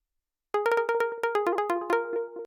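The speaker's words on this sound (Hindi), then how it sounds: "ये भी एक वीएसटी का ही है जिसका नाम ट्रिपल चीज़ है" Triple Cheese VST synth by u-he playing a plucky, percussive melody of about a dozen short notes with quick decays, bell-like and clear, heard alone after brief silence with no talking.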